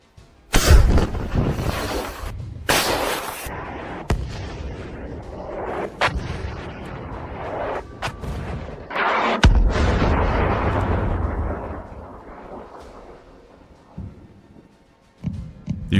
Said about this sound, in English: An artillery strike on the Bradley begins.